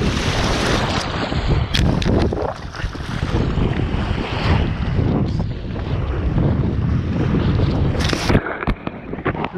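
Steady wind noise buffeting the microphone over rushing, splashing water during a kite-powered ride on a homemade plywood hydrofoil wing, with a size-seven kite, loud and continuous throughout.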